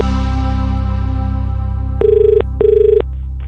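Outgoing telephone ringback on a call to a farm: two evenly spaced electronic ring bursts, loud and close, over a low steady hum and the trailing tail of music.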